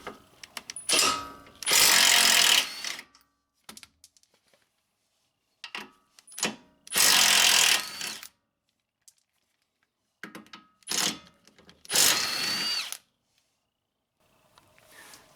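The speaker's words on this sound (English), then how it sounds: "I'll be using an impact wrench." A small Milwaukee impact wrench loosens CV axle bolts on a 2006-2011 Honda Civic, firing in three loud, rattling bursts with clicks and near-silence between them.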